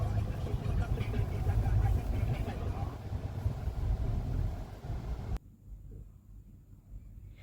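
A vehicle's engine rumbles at low pitch as it is driven into a new shed, with someone talking over it, then the sound cuts abruptly to near quiet.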